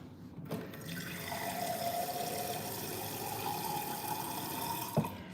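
Water poured steadily into a pet's water bowl, a continuous close splashing stream that ends with a small clunk as the bowl is set down.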